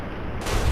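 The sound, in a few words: gunshot headshot in the video game Fallout: New Vegas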